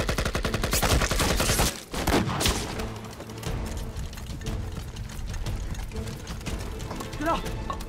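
Gunfire rattles through a war film battle against Japanese forces, dense bursts of shots and fusillade crowding the opening seconds, then continuing more sparsely under music and shouted voices.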